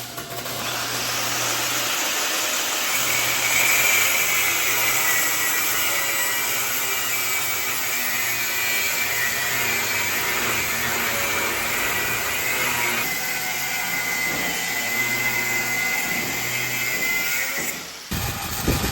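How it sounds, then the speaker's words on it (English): A power tool cuts the front mounts off a square body truck frame, a steady loud whining grind running almost continuously with small shifts in pitch, then stopping abruptly near the end. "I'm going to get these front mounts cut off the square body frame."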